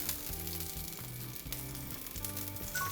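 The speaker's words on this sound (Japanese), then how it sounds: "軽く温度が上がっていったらズッキーニから焼いていきます" Zucchini slices fry in a preheated pan with a steady, close sizzle, and soft music plays underneath.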